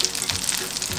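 Egg-dipped bread with cheese fries in a pan, giving a steady close crackling sizzle with fine popping throughout one continuous second.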